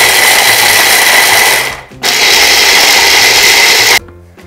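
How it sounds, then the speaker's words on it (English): Electric spice grinder whirring loudly through curry leaves, asafoetida, turmeric and salt, a steady high motor roar in two long runs with a brief pause between, no voices. "I shall grind all of this into a coarse powder."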